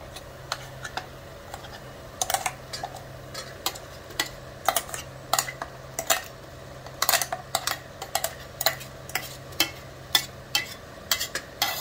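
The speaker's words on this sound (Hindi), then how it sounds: "अब इसमें हम पहले डालेंगे छोले जो हमने पीसे हुए थे।" A spoon scrapes and taps irregularly in a pan as ground chickpeas are stirred into a cooking masala, giving sharp, close clicks over a soft sizzle, with no voices.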